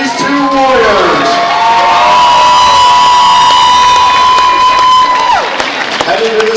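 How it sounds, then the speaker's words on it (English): A loud arena crowd at a Muay Thai fight cheers, whoops and applauds the two fighters, with shouting voices and a sustained, ringing yell on top of dense clapping that holds strong throughout. "how about a round of applause for these two warriors?"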